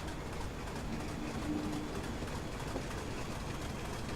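A Class 25 diesel locomotive accelerates in Train Simulator 2016, a steady dense engine and rail rumble with no talk over it.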